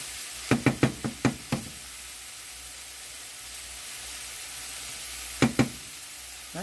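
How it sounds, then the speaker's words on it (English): Mushrooms browning in a pan give off a soft, steady sizzling hiss, punctuated by a quick cluster of sharp utensil knocks against the pan early on and two more near the end. "We're just browning up the mushrooms."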